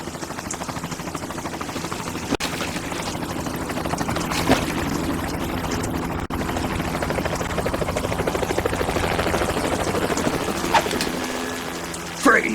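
Helicopter in the video game Metal Gear Solid 2, a steady whirring rotor and engine drone holding at constant loudness throughout, with a few brief thuds and clanks over it.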